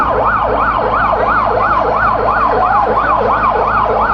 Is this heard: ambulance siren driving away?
yes